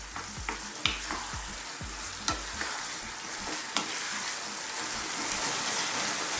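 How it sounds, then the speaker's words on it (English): Mushrooms stir-fried over lively heat in a hot pan for a chilli beef baked pasta, a steady close sizzle punctuated by repeated scraping stirs and clacks, with no talking. "we're going to just kind of stir fry it for about, I don't know, 3 or 4 minutes on a kind of lively heat again"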